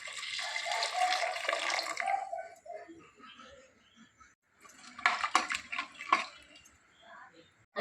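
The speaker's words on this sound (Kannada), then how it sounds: "ಸ್ವಲ್ಪ ನೀರು ಹಾಕುವ." Water is poured into a cooking pot holding green peas with chilli powder, cumin and salt, a steady splashing stream for about two seconds, then a second, shorter burst of pouring, with quiet speech in between.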